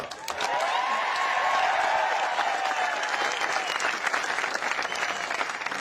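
A crowd at a public speech breaks into dense, sustained applause with cheering voices rising over it, loud and steady for several seconds before thinning slightly.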